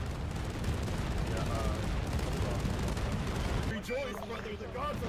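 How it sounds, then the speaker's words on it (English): Bolter gunfire in Arma 3 with a Warhammer 40K mod rattles as a dense, continuous barrage. Near the end it thins out and voices come through. "That wall is shooting bolters at us."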